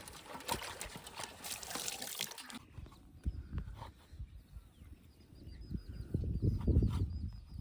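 Water splashing and trickling steadily as it is poured into a cooking pot outdoors in a village, with rustling and clatter nearby and muffled background noise.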